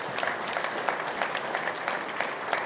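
Another round of applause for an honored family at a cattle marketing hall of fame induction ceremony, steady crowd clapping with distinct individual claps popping through.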